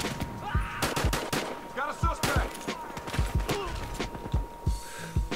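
Suppressed gunfire in the shooter game Battlefield Hardline: quick muffled shots and bursts with thuds and impacts over a steady game background, fairly loud and irregular, no voice.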